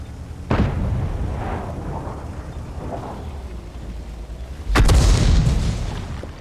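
Tank cannon fire in World of Tanks: two loud, heavy booming shots a few seconds apart, the second closer and followed by a rumbling decay, over a low background of engine and battle noise.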